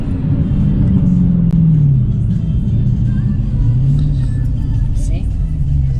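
A Dodge Hellcat's engine rumbles loud and close in a steady deep drone, swelling slightly as it revs, with voices talking over it.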